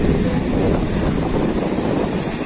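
Sea waves wash in at Juhu Beach in Mumbai, a loud, steady roaring wash of surf blended with heavy wind buffeting the microphone, with no voices over it.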